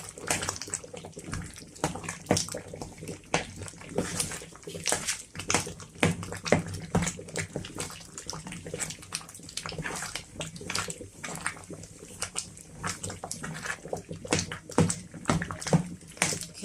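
Liquid splashing and bubbling in a pot of yam porridge (asaro) as it cooks, a busy, continuous sputter of splashes and sloshes heard up close with small kitchen clatter mixed in.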